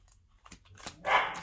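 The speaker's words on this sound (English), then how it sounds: "Forgive the dog noises. We have a very full house of dogs at this" Dogs barking inside a house full of dogs, a few quiet scattered barks and yips followed by a louder burst near the end, with no talk.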